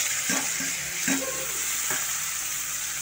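Paneer frying in refined oil in a kadai, a steady close sizzle running the whole time with a few soft clinks of a utensil against the pan.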